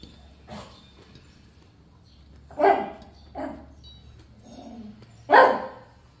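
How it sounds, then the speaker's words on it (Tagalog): A dog gives a few sharp barks and yips spaced a couple of seconds apart, with soft whimpering in between, close by in a quiet room. "Guys, yung aso ko nanginginig."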